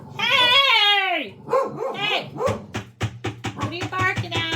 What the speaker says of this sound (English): what are you barking at? Come on, you're too loud there.